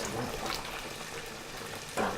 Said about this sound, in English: it's going to strain the water down the drain